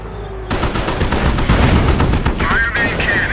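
A Sherman tank's main cannon fires during Company of Heroes battle, a loud sudden blast followed by dense rumbling gunfire and explosions, with a brief high whine near the end.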